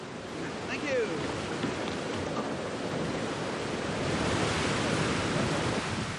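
Wild white-water rapids on the River Truerin rush around a canoe in a steady, loud, broad roar, mixed with wind buffeting the microphone and swelling toward the end.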